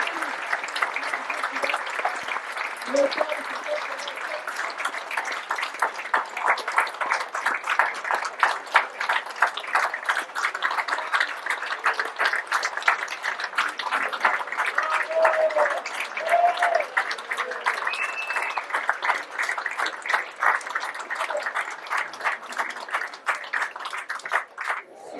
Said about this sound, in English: Thank you all for that wonderful applause.